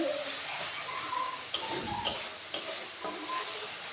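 Spice paste fries in hot oil as a spoon stirs it. A soft, steady sizzle runs underneath, and a few sharp clinks of the utensil against the pan stand out. The sound is close and fairly quiet, with no talking.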